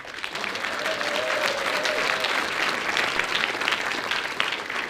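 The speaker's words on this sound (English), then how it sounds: "everybody's going to give you a round of applause" An audience at a British Skydiving AGM and awards event applauds a team member, with dense, steady clapping from a sizable crowd that stays loud and sustained for several seconds.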